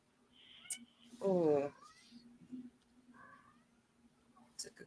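A house cat meows once, close and clear, during a sports chat stream, with fainter short cat sounds afterward and people talking quietly around it.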